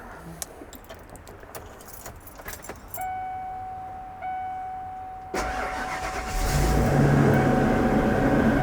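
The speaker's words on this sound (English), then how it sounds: "Let's go ahead and do a cold start here," Keys jangle close by, then a chime sounds as the ignition is switched on, before a box van's engine cranks and fires on a cold start in winter, settling into a loud, steady idle.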